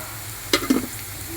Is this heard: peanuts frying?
yes